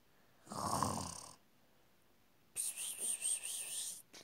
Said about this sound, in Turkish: Çok horluyor dedim.